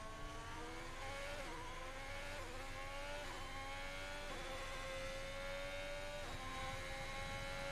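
An F1 22 race car engine screams steadily through upshifts, the pitch climbing then dropping at each gear change in a regular rhythm, sustained and close with no talking.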